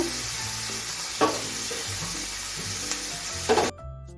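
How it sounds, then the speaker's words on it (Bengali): Warm water hits vegetables frying in a pan, giving a steady hiss and sizzle with a couple of sharper bursts near the end before it cuts off abruptly; close, with no talk. "এখন আমি হালকা উষ্ণ গরম জল দিয়ে দিচ্ছি"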